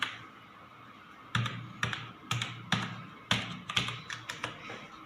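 Keys on a computer keyboard are pressed in short bursts, including the Shift key, a run of close, crisp clicks and taps spaced unevenly with brief pauses between them.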